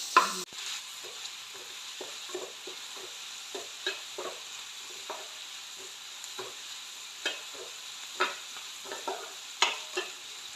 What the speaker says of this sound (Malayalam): സവോള വഴന്നിട്ടുള്ള ലേശം നമുക്ക് ഉപ്പിട്ട് കൊടുത്തിട്ട് നന്നായിട്ട് വഴന്ന് കിട്ടുന്നവരെ ഇളക്കിക്കൊണ്ടിരിക്കാം